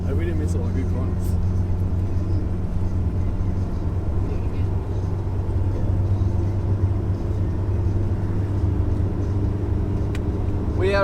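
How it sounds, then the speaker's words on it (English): An automatic Toyota Corolla KE70 with a 4K engine and electronic ignition is driven flat out around corners on the roads at Arthur's Seat. A loud, steady engine drone and road rumble run from inside the car throughout. "in my auto 4K Corolla with my foot to the floor, just hucking it around corners as hard as I can to maintain speed"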